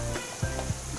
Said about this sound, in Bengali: কিছুক্ষণ এভাবে একটু কষিয়ে নিয়ে এখন আমি এর মধ্যে